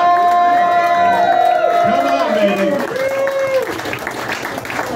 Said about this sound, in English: How about give yourself a round of applause, ladies and gentlemen, for coming out here.